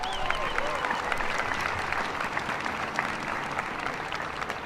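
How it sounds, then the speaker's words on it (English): Audience applause at an outdoor Wreaths Across America ceremony at Houston National Cemetery, Texas, a steady, dense clapping from a crowd that continues for the whole stretch with some crowd noise mixed in. "Give her another round of applause."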